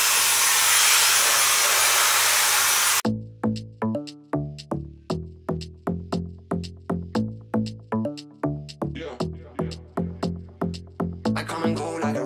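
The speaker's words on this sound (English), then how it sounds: "So I should show you guys my blow dryer settings." A blow dryer on fan setting 1 and heat setting 3 roars loudly and steadily for about three seconds, then abruptly gives way to rhythmic music with punchy repeated notes.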